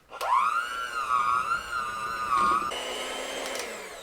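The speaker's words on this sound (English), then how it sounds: "And now, we can bring our chocolate mixer back." An electric mixer whirs through a chocolate mousse cheesecake mixture, a close, steady motor whine that wavers slightly in pitch, then shifts to a rougher tone as the beaters work the batter.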